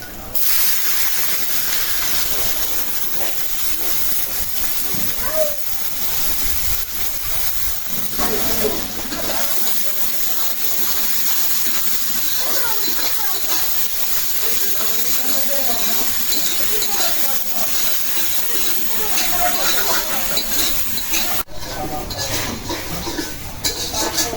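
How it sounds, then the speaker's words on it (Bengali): Steady sizzling hiss of chopped onions frying in hot oil with dried chillies and cumin, continuous throughout, with occasional clinks of a utensil against the pan. "পেঁয়াজগুলি আমি একদম বেরেস্তার মতো ভাজা নিচ্ছি"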